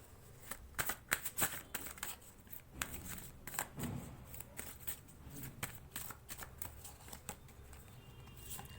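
Tarot cards are shuffled in quick, crisp riffles and flicks, close and fairly quiet, with repeated bursts of papery snapping and no talking.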